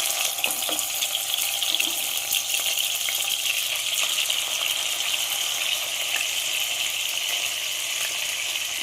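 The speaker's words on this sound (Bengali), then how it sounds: "তেল গরম হয়ে গেছে। এবার আমি মাছগুলো একটা একটা করে তেলের মধ্যে" Rohu fish pieces frying in hot oil for dahi rui, a continuous close crackling sizzle that holds at an even level throughout with no talking.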